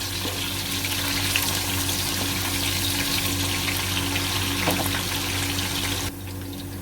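Onions for beef yakhni pulao fry in a pot with a constant, dense sizzle that stays steady for several seconds, then drops to a quieter hiss near the end.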